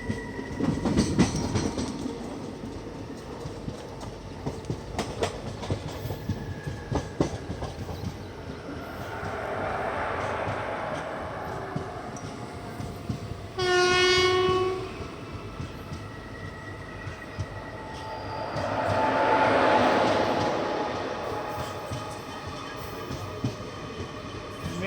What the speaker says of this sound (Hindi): तो यहाँ पे हमारी नंदीग्राम एक्सप्रेस 2 ट्रेनों को एक साथ क्रॉस कर रही है।